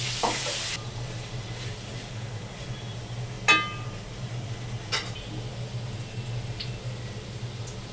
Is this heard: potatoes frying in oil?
yes